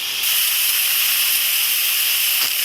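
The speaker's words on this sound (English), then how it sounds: "In order to open the Instant Pot, we'll hit cancel and flip this forward to release the pressure." Instant Pot venting steam pressure through its release valve, a loud continuous hiss that stays steady and close throughout.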